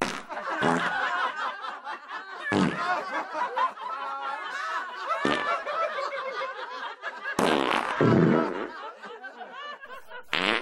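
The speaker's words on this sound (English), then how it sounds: "Here's clips from week 7 with fart noises inserted." Comedic fart sound effects are inserted into sports clips, loud sharp bursts recurring every few seconds alongside snickering and chuckling from a laugh track.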